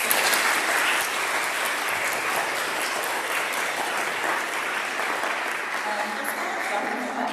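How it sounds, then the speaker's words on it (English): An audience at an eighth-grade speech event gives the student speakers a round of applause, continuous thick clapping at an even level that slowly thins near the end, with some murmured voices beneath. "Can we give them all another round of applause?"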